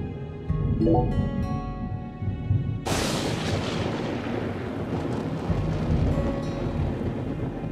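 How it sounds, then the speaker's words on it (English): A loud, sudden crack of thunder in the video game Deadly Premonition 2, opening into a long rolling rumble that fades slowly over sustained rain-like noise, with an earlier low rumble beforehand. "Do you hear that thunder?"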